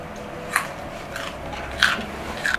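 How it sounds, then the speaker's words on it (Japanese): Someone bites into the raw cut-off stem end of a cucumber during preparation of cucumber pickles, giving a few crisp crunchy bites spaced apart, close and fairly quiet with no talking. "このヘタはね、食べます。"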